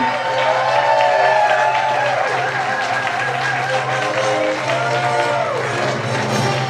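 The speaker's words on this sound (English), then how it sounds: "Let's give a big round of applause for parents of the bride, Philip and Louise Brown." A wedding reception crowd claps and cheers in a large room for the bride's parents, steady applause with voices and a loud amplified voice carrying over it.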